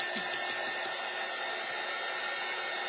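A hair dryer blowing on lightly painted craft pieces for a farmhouse Christmas tree kit, giving a steady, loud, even whoosh with no breaks for the whole stretch.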